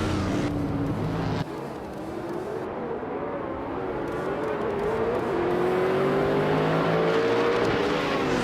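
Modern supercars race at Bathurst in a racing video game, with engines droning and revving steadily as they pull away, the engine note rising gradually over a moderate, continuous roar with no talk.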